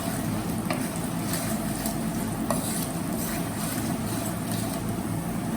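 Cloves, cinnamon and black peppercorns frying in a pan over a low flame, a steady dense sizzle with soft stirring scrapes and a couple of faint clicks throughout, close and continuous.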